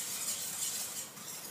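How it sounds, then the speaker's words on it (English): Almond liqueur being stirred into rich pastry cream in a pan: a soft, steady, faint scraping swish with an airy hiss and no voices. "I'm going to stir that in."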